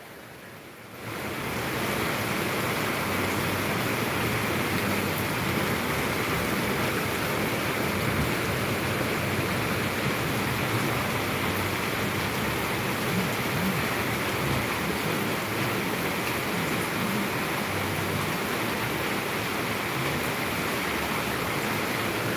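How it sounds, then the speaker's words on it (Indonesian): Heavy rain falls in Palembang, South Sumatra, as a steady, loud, dense hiss that starts after a brief quiet moment and continues unbroken, with no talking. "di sini hujan di Palembang, Sumatera Selatan"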